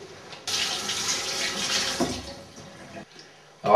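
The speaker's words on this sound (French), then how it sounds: "Une anchois que je vais rincer." Anchovies are rinsed under a running kitchen tap, the water hissing steadily at close range for a few seconds before it is shut off.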